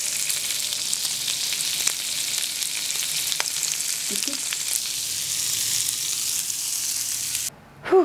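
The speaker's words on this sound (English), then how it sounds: "I'm gonna try getting the sizzle." Food frying in a pan at lunchtime gives a steady, fairly close sizzle with a few light crackles and pops, then cuts off briefly near the end. No one speaks.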